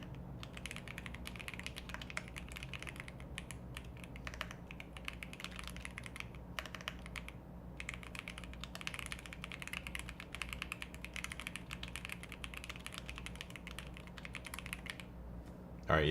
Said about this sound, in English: Man, my keyboard is pressing double R's right now.